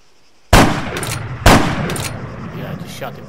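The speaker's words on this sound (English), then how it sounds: "I just shot him through the wall" Two sharp, loud sniper rifle shots about a second apart in the video game Arma 3, each followed by a long echoing tail that trails off.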